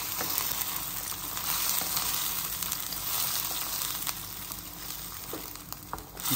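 Homemade potato gnocchi stirred into simmering tomato sauce in a pan, a steady loud sizzle and bubbling hiss with occasional soft scrapes of the spoon, no voices.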